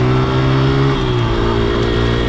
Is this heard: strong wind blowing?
no